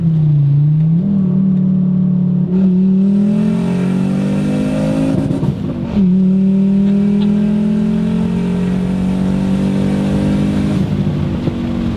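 Loud turbocharged five-cylinder Volvo 850R wagon engine roaring at high revs under hard acceleration, its pitch climbing gradually with brief dips between gears, continuous and close.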